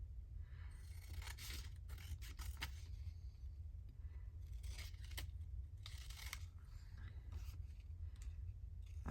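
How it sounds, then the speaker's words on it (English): Scissors snip through paper for a journal craft project in repeated short clusters of crisp cuts and rustles, close and quiet over a low steady background hum, with no talking. "swerve my scissors and cut that"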